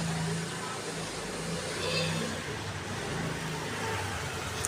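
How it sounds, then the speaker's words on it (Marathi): A car engine rumbles outside at low level, swelling slightly as it passes, muffled and steady beneath faint background sound. "आवाज येतो गाडीचा"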